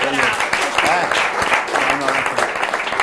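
Applause for young pentathlon athletes at a sports federation event, a crowd clapping steadily while voices talk over it, with some tonal chatter mixed into the clapping.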